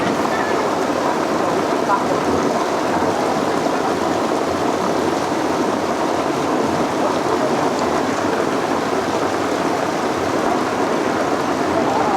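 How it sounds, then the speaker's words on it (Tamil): Heavy rain during flooding in Varanasi pours steadily and loudly throughout, a dense unbroken hiss with a low rumble beneath. "மழையோட தீவிரம் ரொம்ப அதிகமாச்சு"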